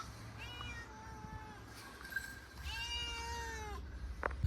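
A mother cat gives two drawn-out meows close by, with a short pause between them, over a low background hum.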